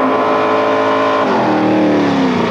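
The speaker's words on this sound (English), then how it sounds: "Coming into lane two is the Kingswood Holden of Barry Webber" Holden Kingswood with a 308 cubic inch Holden motor running in a street-class drag race, loud sustained engine roar with a pitch shift partway through, close and dominant, no talk.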